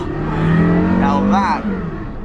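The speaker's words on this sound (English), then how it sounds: "that is a drift and a half right there" A Porsche Carrera GT engine roars close up during a drift, with a sustained rising and falling rev, a sharp swooping flare in the middle and a speaking voice mixed over it.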